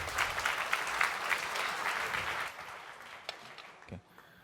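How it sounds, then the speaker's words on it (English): Audience applause at a design talks event on future living greets the next speaker, dense clapping that fills the first half, then thins to scattered claps and a brief cheer before fading out. "A warm applause for Julian Ellerby."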